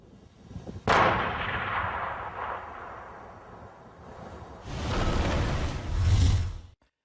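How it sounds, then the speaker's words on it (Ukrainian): A detonation of TNT at a military firing range: a sharp, powerful blast erupts, then rolls into a long rumbling roar, with a second heavy surge of rumbling noise a few seconds later. "Піротехніки вивезли тротил на полігон та підірвали."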